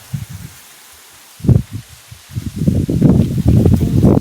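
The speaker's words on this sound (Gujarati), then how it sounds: "પવન એટલો બધો છે" Strong wind gusts buffet and rustle in low, uneven bursts during rain at a farm threshing yard, growing louder and more constant toward the end.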